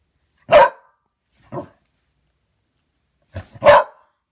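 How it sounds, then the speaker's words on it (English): A dog barks sharply four times in two short bursts, loud and close, with silence between them. "No barking."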